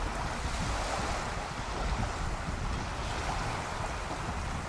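Ocean waves on the BC Sunshine Coast wash in a steady, dense rush, with wind buffeting the microphone throughout.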